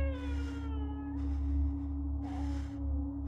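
Cat meowing in the video game Conarium, a few drawn-out plaintive meows over a steady low electrical hum and droning ambience, fairly quiet.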